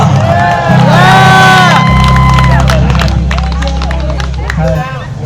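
A crowd cheers and claps for a performer, mixed with loud spoken and sung voices over a droning low tone, the noise fading slightly near the end.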